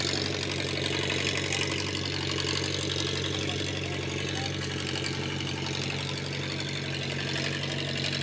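Minneapolis Moline ZA farm tractor engine running steadily at a barnyard tractor pull at a county fair, a constant low throbbing drone throughout under crowd and background chatter.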